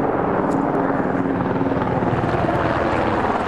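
A helicopter's rotor thrums steadily overhead, a loud, continuous chopping roar that fills the whole stretch.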